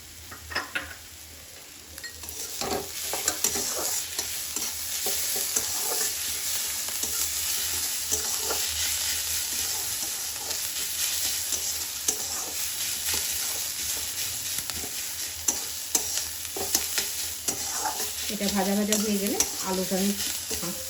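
Grated carrot and onion frying in a pan with chopped ginger and green chilli, a continuous sizzle broken by repeated spatula scrapes and stirring clatter against the pan, louder clinks near the end, no speech.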